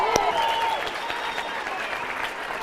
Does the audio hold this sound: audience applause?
yes